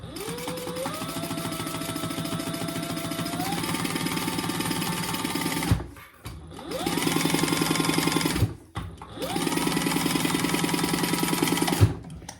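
Used Bernina serger overlock machine stitching in three long bursts, its motor winding up with a rising whine and settling into a steady rapid mechanical chatter, with brief pauses between runs; close and loud, no talk.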